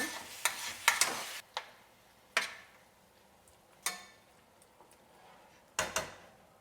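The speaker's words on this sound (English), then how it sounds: "you just want to mix this around, make it, you know, all touching the pan" Food being stirred around a frying pan while chicken cooks, giving several short scraping, clattering strokes spaced unevenly over a quiet, faint sizzle.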